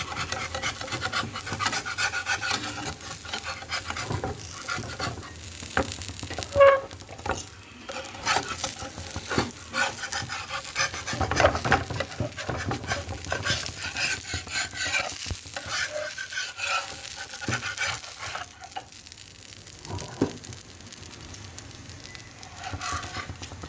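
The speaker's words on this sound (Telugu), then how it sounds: "ఈలోపు దోశ వేస్తాం దోశ వేస్తాం" Dosa batter frying on a hot pan in a home kitchen, a steady broadband sizzle with scraping and stirring textures throughout, close and continuous, no voices.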